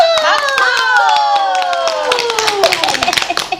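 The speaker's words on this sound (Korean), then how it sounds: "자, 박수!" Applause from an outdoor madang-style theatre audience, a dense patter of many clapping hands that thins into scattered claps, heard beneath a tonal melodic sound that slides downward, with no talk.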